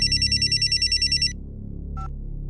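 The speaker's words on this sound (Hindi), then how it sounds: "तुम्हारा फोन बज रहा है।" Phone ringing in a home scene from a Hindi crime drama: a loud electronic ring pulses in a steady rapid rhythm for over a second, then stops, leaving a low room hum and a brief faint tone.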